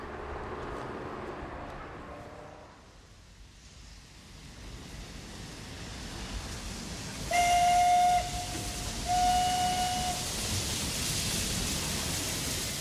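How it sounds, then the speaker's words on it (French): A steam train whistles as it enters Dessau station in 1926, two long steady blasts separated by a short pause, loud over a constant hiss of steam and rumbling noise. "Le 4 décembre 1926, un train à vapeur pénètre dans la gare de Dessau."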